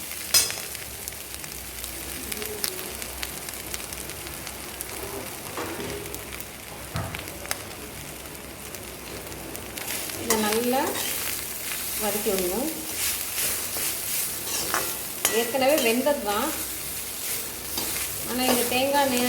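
Asafoetida, curry leaves and spices crackle and sizzle in hot oil during tempering, with a constant frying hiss, louder bursts of spattering partway through, and occasional stirring sounds.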